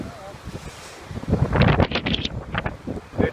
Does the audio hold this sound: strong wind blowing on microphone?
yes